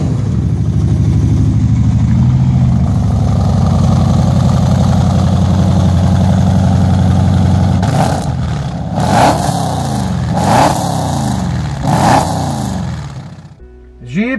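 Modified Mopar 5.7-litre 345 Hemi V8 in a Jeep CJ-66 at a car show, idling with a steady low rumble before three sharp revving blips, each rising and falling, loud and close.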